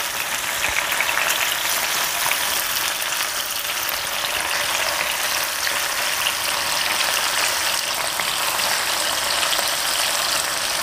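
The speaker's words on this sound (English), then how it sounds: "we've had the tilapia frying" Steady, loud sizzling of tilapia frying in a hot pan, a constant crackling hiss with no talking.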